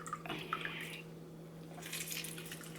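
Half a lemon squeezed by hand into water with sea moss, giving a few close, soft wet squishes and drips, quiet and with no talking.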